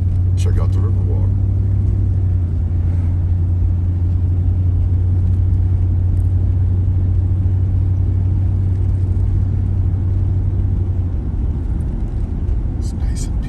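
Van driving on a winter road along the Portage Lakefront and Riverwalk Trail in Indiana, a steady low engine and tire rumble at close range that holds evenly throughout with no talking.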